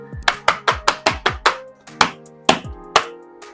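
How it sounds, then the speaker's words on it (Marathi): A container of homemade chocolate ice cream is tapped firmly on a counter about ten times, sharp close knocks in a quick run that slows into spaced single taps, with no talking. "थोडंसं आपल्याला असं टॅप करून घ्यायचं आहे"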